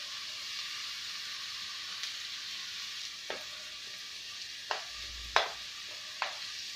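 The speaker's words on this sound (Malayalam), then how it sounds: "പൗഡറെല്ലാം അല്പം വെള്ളമൊഴിച്ച് ഞാൻ മിക്സ് ചെയ്യുകയാണ്" Spice powder mixed with a little water is stirred into sautéed onions for a Kerala fish head curry, giving a steady soft sizzle with a few sharp utensil clicks and no talking.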